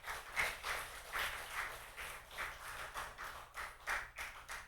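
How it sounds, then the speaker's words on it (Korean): A congregation claps at a Sunday evening church service, a steady run of soft, even claps from a distance with no talking. "박수 한번 쳐줘요"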